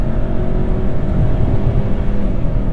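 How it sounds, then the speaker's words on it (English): Steady, loud broadband road and engine roar from inside a 2022 Hyundai Santa Cruz truck driven fast on winding roads, a continuous rumble with no distinct revs or talking. "I should not be having this much fun and going this fast in a truck on these roads."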